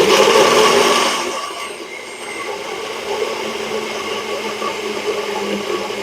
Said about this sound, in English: We got on our NutriBullet, and we'll just go ahead and give it a whirl.